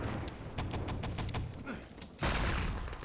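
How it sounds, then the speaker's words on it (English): Gunfire from a competitive Enemy Territory match crackles in rapid bursts, followed by a heavier thump near the end, with faint voices in the background. "Heard some shots."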